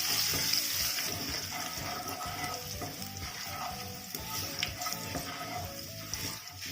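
Asafoetida, cumin seeds and green chili sizzle in hot oil in a pan, a continuous crackling hiss at moderate level with occasional stirring clatter.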